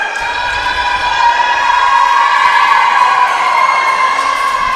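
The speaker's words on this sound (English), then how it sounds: "Another good crowd here tonight." Crowd cheering and shouting at a college volleyball match in an indoor gym, a steady loud roar of many voices with whoops and children's shouts sustained throughout.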